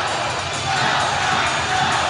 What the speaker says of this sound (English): Crowd waking right back up to get the Bulldogs motivated again.